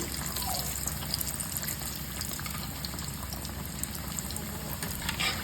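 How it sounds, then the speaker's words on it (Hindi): Chicken Kiev, garlic-butter-stuffed chicken breast, deep frying piece by piece in hot oil over a medium flame, giving a steady, close, even bubbling sizzle with no talk. "अब मैं छोड़ूंगी एक एक करके चिकन। और मैं डीप फ्राई करूंगी।"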